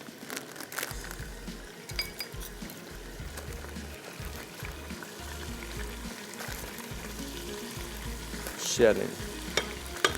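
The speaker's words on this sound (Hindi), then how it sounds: "अब इसके साथ थोड़ा सा हमने गोश्त को भूनना है" Meat and liver sizzling and frying in a pan for kaleji katakat, with stirring and an occasional clink of a utensil, steady and close throughout, with a brief louder scrape near the end.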